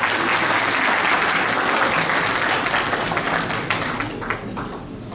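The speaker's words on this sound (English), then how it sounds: "Gentlemen, please give a round of applause." A full room of guests applauds loudly and continuously at an Indian community farewell ceremony for an ambassador in Riyadh, the dense clapping holding steady before easing slightly toward the end.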